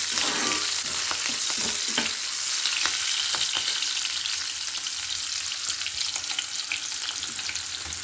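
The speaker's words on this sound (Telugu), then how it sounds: "కరివేపాకు, ఉల్లిపాయ, పచ్చిమిర్చి వేసాను." Curry leaves, onion and green chillies fry in a hot pan for vegetable pulao, giving a steady, loud sizzle and crackle throughout with occasional stirring scrapes and no voices.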